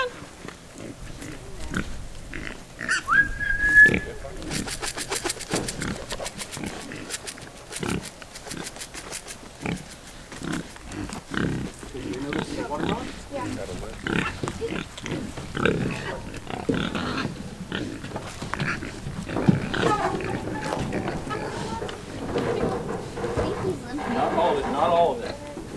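Pigs grunt and oink steadily while being loaded on a ranch, a continuous close mix of snorts and squeals that runs under people calling and coaxing them throughout.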